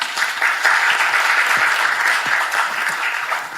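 Audience clapping at a 2022 talk show on single-person households in Korea, a steady full burst of applause from a crowd lasting the whole moment without any talking.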